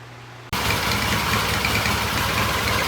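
A 1978 Triumph T140 motorcycle engine on its first start after work: silence, then the engine catches abruptly and runs on at a steady, loud, close idle with an even throbbing pulse.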